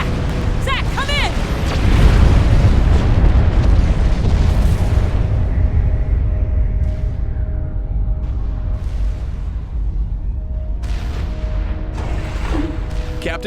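A Commander unit explodes in the real-time strategy game Supreme Commander: a loud, heavy boom with a long rumbling tail, under battlefield noise and a voice talking over it.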